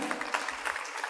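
Brief, dense applause from a church congregation during an Easter celebration, a short burst of many hands clapping at once.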